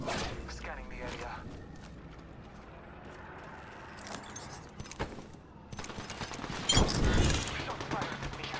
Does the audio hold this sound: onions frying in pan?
no